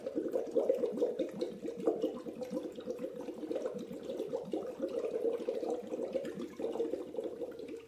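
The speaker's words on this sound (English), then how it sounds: "It's a lot of water, I have to blow a lot in this one." Breath is blown through a straw into a full glass of water, producing steady, rapid bubbling and gurgling that continues throughout at close range and moderate volume.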